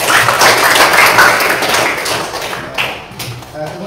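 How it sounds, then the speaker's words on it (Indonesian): Classmates clap after a student group presentation in a classroom, a loud, dense burst of close-up hand claps that thins out and fades toward the end. "Ya, berikan tepuk tangan."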